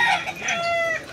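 Chickens cluck and squawk close by on a roadside in a short, busy burst with no talking.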